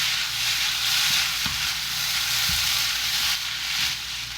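Singapore-style rice noodles with salt, sugar and seasoning stir-fried over high heat in a wok, giving a steady loud sizzle broken by several scraping stirs of the spatula, with no talking.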